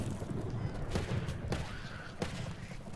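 Rapid bursts of gunfire in the video game Days Gone crackle over a steady game-like background rumble, a few sharper shots standing out.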